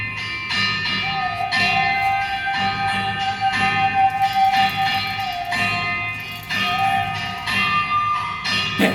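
Struck stone slabs of a lithophone ring with bell-like, resonant tones, played to recreate Neolithic music. A steady series of strikes and overlapping sustained notes fills about nine seconds, fairly loud and clear, with no voices.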